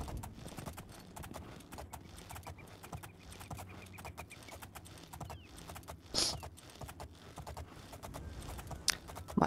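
A horse's hooves clip-clop at a steady walking rhythm in the video game Oblivion, close and continuous, with a brief snort or whinny partway through.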